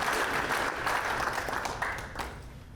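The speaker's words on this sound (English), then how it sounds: "So a little round of applause for Brian Trollope." Audience applause at a sports hall of fame induction, a warm steady round of clapping from the crowd that fades gradually over a few seconds.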